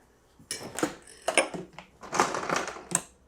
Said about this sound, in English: We're gonna put a little ice in there.